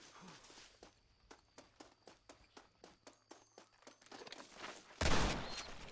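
A shotgun fires once in Red Dead Redemption on Xbox 360, a sudden loud blast near the end. Before it comes a steady run of rhythmic hoofbeat-like clops.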